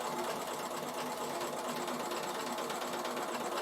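Continuous rapid whirring and needle chatter of a Bernina sewing machine stitching pintucks with twin needles over a cord, steady and close throughout with no talking.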